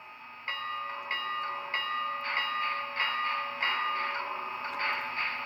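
A small speaker in an Athearn HO Challenger model locomotive's sound decoder rings a bell in steady repeated clangs, roughly every half second, over a constant electronic hum.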